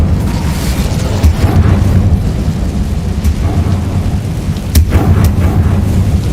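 Incendio fire spell cast in Hogwarts Legacy, a loud rumbling whoosh of flame and booming bursts layered over a constant low roar, with sharper cracks near the end.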